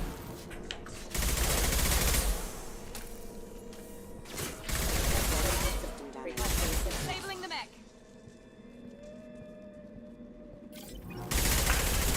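Gunfire from a weapon in Mass Effect 2 Legendary Edition comes in several loud, sustained bursts separated by short lulls, with quieter game ambience and a few tonal effects in between.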